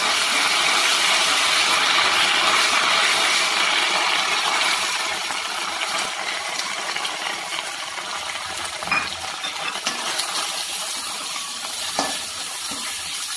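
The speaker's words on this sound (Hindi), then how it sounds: "देन मैं इसमें बारीक कटे हुए प्याज डालूंगी" Finely chopped onions hitting hot oil in a pan for arbi sabji, a steady loud sizzle and frying hiss with a few soft clinks of the utensil.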